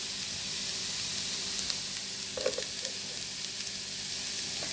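Steady, close sizzling of herbs frying in hot oil in a home kitchen, a constant crackling hiss with a few brief pops and stirring sounds.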